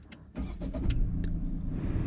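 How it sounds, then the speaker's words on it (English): Tata Altroz XZ+ iTurbo petrol hatchback engine starting: a short starter crank catches into a steady, close idle hum that holds on after ignition. "ఇప్పుడు మనం car ఇంజన్ని start చేద్దాము"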